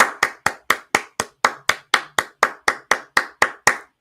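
A lone pair of hands claps sharply about sixteen times at an even, brisk pace, each clap crisp, close and clearly separated.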